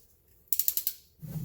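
Hose clamp tool ratcheting onto an intercooler hose clamp on a Hyundai turbo: five quick, sharp clicks in steady rhythm, close and crisp, followed by a low rustling shuffle.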